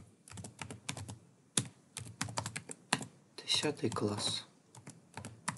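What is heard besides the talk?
typing text on a computer keyboard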